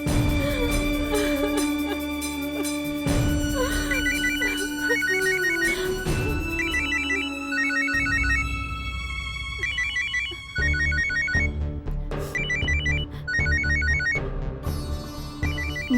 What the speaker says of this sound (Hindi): नताशा का फोन